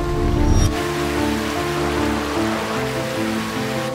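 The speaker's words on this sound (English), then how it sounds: "It was always raining." Steady, dense wash of rain falling on a surface, constant and fairly loud throughout, with a brief louder burst at the very start.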